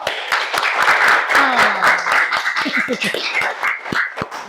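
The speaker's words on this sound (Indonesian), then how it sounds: "Tepuk tangan untuk kelompok 2." A junior high school class claps together in a brisk burst of applause for a group presentation, with scattered individual claps and some voices mixed in.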